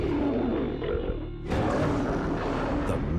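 A prehistoric mega lion roars as a sound effect, a deep, rumbling, close growl that swells into a louder second roar.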